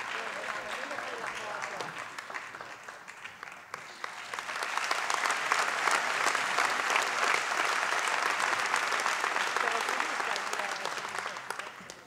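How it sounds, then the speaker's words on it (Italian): An audience at a student award ceremony applauds, a broad steady wash of clapping that swells louder midway and holds to the end, with a voice briefly audible under it. "Un applauso"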